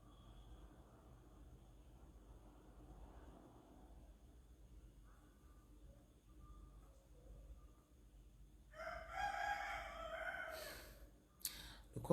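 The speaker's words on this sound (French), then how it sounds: "Le coq, c'est là." A rooster crows once from a little distance near the end, a loud rising call cutting through an otherwise quiet, hissy background with faint earlier sounds.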